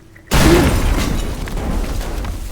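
A sudden loud boom bursts in after a brief quiet moment, followed by a long rumbling roar of explosions destroying houses in the video game Teardown that stays heavy to the end.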